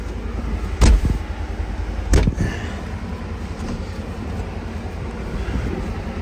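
A vehicle fitted with a snow plow drives through snow at Mammoth Lakes, California, giving a steady low engine and road rumble with two sharp thumps early on and no talking.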